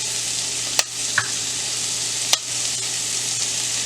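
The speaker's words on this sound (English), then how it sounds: "I'm going to fry a little so that the spices will be cooked" Spices and chili powder frying in a pan for paneer butter masala give a steady, close sizzle, broken by a few sharp clicks of a spoon stirring against the pan.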